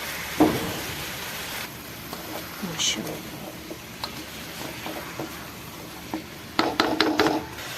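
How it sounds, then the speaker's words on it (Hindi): Stuffed round gourd (tinda) pieces are stirred into masala in a pot in a village kitchen, with scraping and soft sizzling, sharper clatters of the spoon near the end, and a voice talking throughout. "अब अच्छे तरीके से हम इसको मसाले में शामिल करेंगे।"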